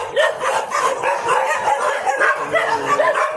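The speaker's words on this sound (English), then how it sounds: "There's a dog that's outside," Dogs at a dog sanctuary in Chonburi, Thailand bark and yip close by in a quick, busy series, with some whimpering mixed in.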